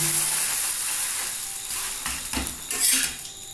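A homemade chicken roll flatbread topped with egg sizzles steadily in a frying pan as it is flipped, with scraping and clinks of a utensil against the pan close up and no talking.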